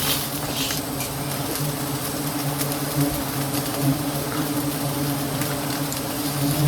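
Dense, steady buzzing of a honey bee swarm deep in the Sundarbans jungle during wild honey collection, a continuous close drone with no talk over it.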